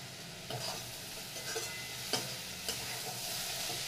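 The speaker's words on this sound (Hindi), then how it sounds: "दाल को मिला देती हूँ" Dal stirred into sweet potato leaves frying in a pan, a quiet steady sizzle punctuated by several spoon scrapes and knocks against the pan, no talking.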